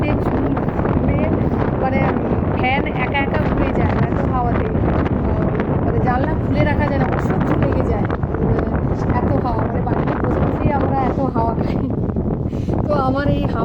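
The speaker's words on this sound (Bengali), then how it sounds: "আমি জানলাটা একটু খুলছি একটু খুললেই বুঝতে পারবেন যে হাওয়াটা কীরকম" Strong wind rushes and buffets steadily through an open window, a continuous roar with a voice talking over it throughout.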